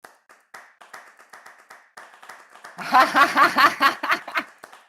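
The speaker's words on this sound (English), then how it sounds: "Bring on the awkward clapping." Sparse, hesitant claps from a small audience at a music and metaverse talk, scattered single claps at first, then a brief burst of denser clapping mixed with some chuckling before it tapers off.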